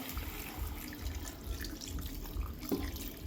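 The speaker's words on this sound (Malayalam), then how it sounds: "ആ വെള്ളമാണ് ഇതിൻ്റെ അകത്തേക്ക് ഒഴിച്ചു കൊടുക്കുന്നത്" Hot water boiled with spices poured into a meat masala in a cooking pot, a continuous close running-water sound, steady and alone without talk.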